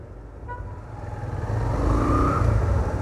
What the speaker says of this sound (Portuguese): O cara tá 10 carros atrás e começa já a buzinar.